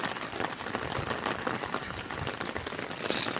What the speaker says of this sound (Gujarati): बारिश चालू है।